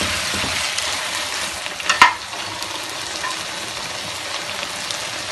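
Chopped onion, capsicum and chili sizzling in a hot pan for a restaurant-style chicken jalfrezi, a steady loud close frying hiss with a brief clatter of stirring in the middle, no voices.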